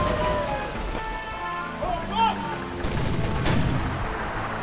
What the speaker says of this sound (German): Das war ein fantastischer Schuss.